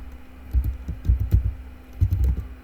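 Typing on a computer keyboard while working in After Effects, heard as quiet bursts of key clicks in two short clusters with a pause between, close and alone.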